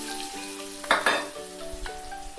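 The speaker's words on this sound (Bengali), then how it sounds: "এবার কড়ায় দেব হচ্ছে পেঁয়াজ কুচি আর একটা গোটা কাঁচা লঙ্কা," Chopped onion and a whole green chilli frying in a kadai, a soft continuous sizzle with a couple of sharp metal utensil clinks and stirring scrapes partway through.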